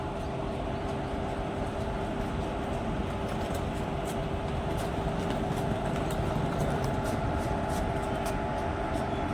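Steady rumble and rattle of trains rolling past below an overbridge, heard from the bridge, continuous and loud throughout, with a constant hum and no voices.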